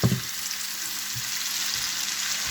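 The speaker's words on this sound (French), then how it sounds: "Je vais revenir mes oignons" Onions fry with half a stock cube in a pan, giving a steady bright sizzle, close and even, opening with a brief stirring knock and a soft tap midway, no voices.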